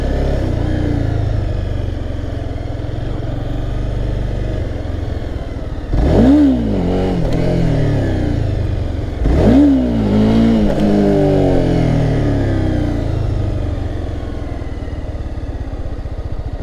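A Honda CBR300 motorcycle engine runs steadily close by during wheelie practice, rising in two sharp revs about three seconds apart before settling back to a loud, even drone.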